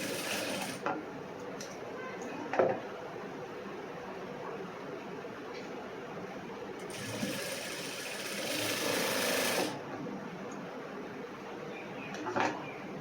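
A sewing machine stitches a cross-cut blouse, with a few seconds of fast mechanical whirring midway between quieter handling noises and occasional clicks.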